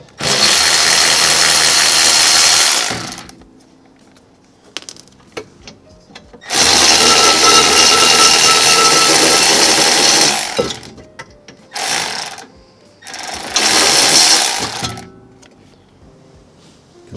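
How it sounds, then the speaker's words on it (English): An electric ratchet spinning out brake caliper bolts on a 2018 Subaru Crosstrek during rear brake work, in loud sustained whirring bursts of a few seconds each, separated by quiet clinks and handling noises. "I'll use my electric ratchet to spin them out."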